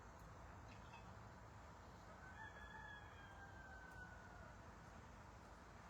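A rooster crows faintly in the distance, one drawn-out call in the middle of a quiet outdoor background.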